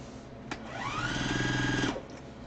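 A sewing machine stitches a fabric face mask in one short burst of about a second and a half, a rising whir settling into rapid needle chatter, close and alone.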